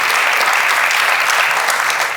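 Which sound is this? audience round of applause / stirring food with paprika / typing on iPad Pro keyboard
audience round of applause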